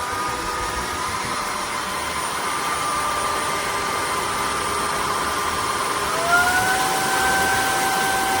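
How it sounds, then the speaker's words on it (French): A Rowenta X-Clean 4 cordless wet vacuum cleaner runs steadily in automatic mode with a smooth, even motor whine, rising slightly in pitch near the end as it speeds up. "Je le fais en mode automatique."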